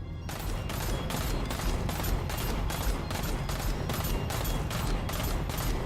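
Rapid continuous gunfire from a 90-round gun in Deadzone: Rogue, shots pounding in an even, fast rhythm throughout, loud and close with no voices over it.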